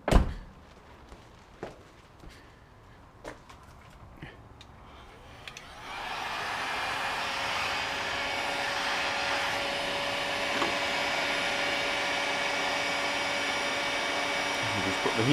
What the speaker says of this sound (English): Just put the heat gun through it.